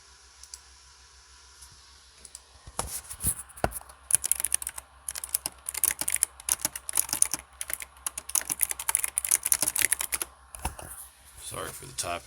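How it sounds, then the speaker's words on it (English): Rapid computer keyboard typing runs in dense, uneven bursts for most of the clip, clicking close and clear behind gameplay sounds during a RAID Shadow Legends Live Arena session. "Sorry for the typing."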